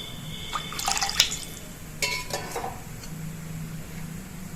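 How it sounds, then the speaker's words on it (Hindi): Water is poured into fried masala in a pan for lauki kofta gravy, giving splashing, trickling bursts with drips that fade to a faint sizzle and low simmer, close up and without talk. "तो अब हम इसमें पानी डाल देंगे"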